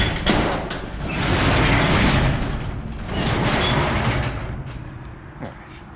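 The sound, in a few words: barn door sliding open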